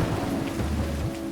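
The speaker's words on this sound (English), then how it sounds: "paid their respect to Loknath, causing rain to fall abundantly across the land." Steady rain falling, with a dense, even hiss and low rumbling underneath that holds constant throughout, no voices present.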